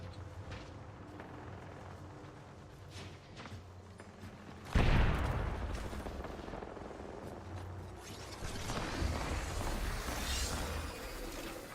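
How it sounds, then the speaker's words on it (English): Gunfire in the battle royale shooter Apex Legends: a steady bed of distant weapon fire gives way to a sudden loud close burst near the middle, followed by continued dense shooting and impacts, with no talking. "I'm under fire."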